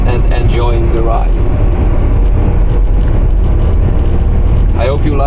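Steady, loud engine and road rumble from a 1979 Mercedes-Benz W123 car driving, filling the whole stretch with constant low drone and wind noise, with faint talk underneath.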